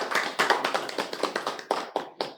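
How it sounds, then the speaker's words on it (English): Light clapping from a few webinar participants comes through as a run of close, separate claps in an uneven rhythm, thinning out toward the end. "so let us have a clap, virtual clap."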